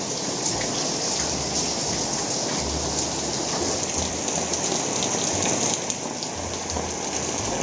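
Heavy rain pouring down on surfaces, a loud, dense and steady hiss that holds unbroken throughout, with no voices over it.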